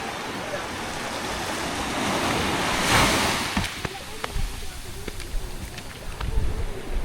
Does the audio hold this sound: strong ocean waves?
yes